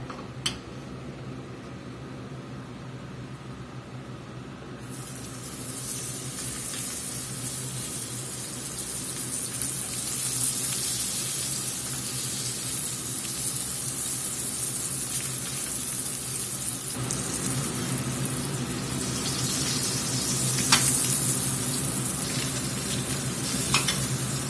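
A bourbon pepper steak sears in a hot skillet, its sizzle swelling from moderate to a loud, dense, steady hiss that holds for over twenty seconds, with a single faint clink partway through.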